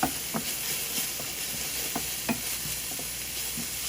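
Vegetarian fried rice with mixed vegetables and plenty of parsley being stirred in a pan, with a soft steady sizzle and repeated light scraping clicks from the spoon.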